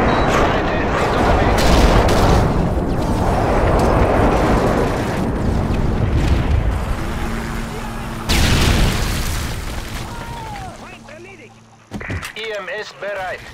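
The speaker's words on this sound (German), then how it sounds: "Der Luftschlag auf dem Weg." Airstrike explosions in Call of Duty: Modern Warfare 3 on the Village map, with heavy booms and rumbling blasts and gunfire filling most of the stretch, then a quieter tail with scattered game effects.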